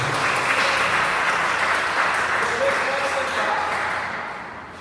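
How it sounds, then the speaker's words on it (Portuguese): A church congregation claps loudly and steadily, the applause tapering off toward the end. "vamos aplaudir o Senhor nosso Deus. Bem forte!"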